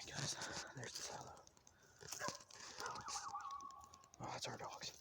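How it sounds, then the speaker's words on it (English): Dogs barking and whimpering in the distance around an abandoned chicken farm, coming in short intermittent bursts under people talking. "Oh, that's our dogs"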